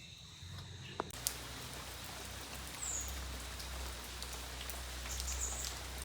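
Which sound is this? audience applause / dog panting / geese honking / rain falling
rain falling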